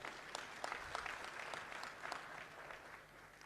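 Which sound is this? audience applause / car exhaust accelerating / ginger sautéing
audience applause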